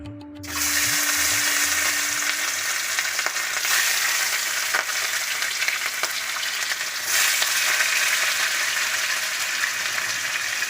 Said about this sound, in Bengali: পাঁচ পিস মতো মাছ আমি কড়াইতে দিলাম